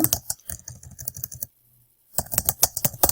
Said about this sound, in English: I can type my message